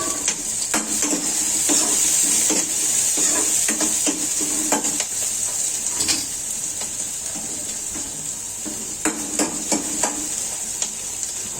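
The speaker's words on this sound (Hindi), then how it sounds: "मैंने सब्जी छौंक दिया" Vegetables sizzle steadily in hot oil as they are tempered, with repeated scraping stirs and occasional clinks against the pan.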